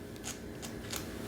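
Curved scissors cut matted hair at the corner of a dog's eye, giving three quick, faint snips over a low background hiss.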